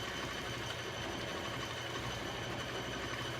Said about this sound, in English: I'm quilting fast, but it's sloppy because I'm just checking my tension.